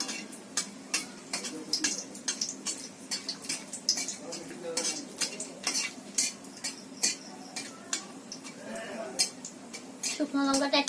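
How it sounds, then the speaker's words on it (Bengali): Dried red chilies sizzle in a pan for sambar while a utensil scrapes and clinks against the metal in steady, repeated strokes, close and fairly loud, with soft frying hiss underneath. "শুকনো লঙ্কাটা একটু কালো করে ভাজলে সেন্টটা ভালো হয়"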